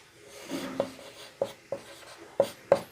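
Pen or chalk strokes while a teacher writes numbers in ascending order for a mean, median and mode lesson, a soft scratchy stroke followed by five or six short distinct taps and scrapes, close and fairly quiet with no talk.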